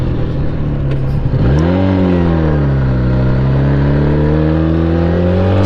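A carburetted motorcycle engine idles with a deep steady rumble, then revs up sharply and holds a rising, throbbing drone, very loud and close with no talk.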